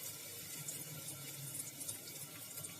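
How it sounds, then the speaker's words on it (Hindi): Water pouring into a cooking pot while making Kashmiri collard greens, a steady continuous splashing stream, close and fairly faint. "1 गिलास जितना पानी डाल रहे हैं।"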